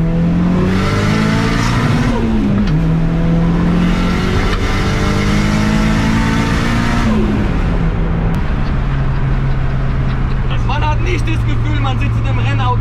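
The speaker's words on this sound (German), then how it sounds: "Man sitzt in einem Rennauto auf der Straße." Loud engine revving from inside the cabin of a Nissan S13 on a country road, rising and falling through gears, with voices talking over the steady drone.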